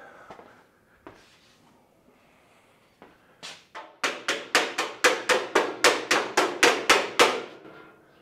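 A flapper body-shaping tool slaps the sheet metal of a 1968 custom VW in a quick run of about a dozen sharp, evenly spaced strikes, preceded by a few scattered taps and quiet handling.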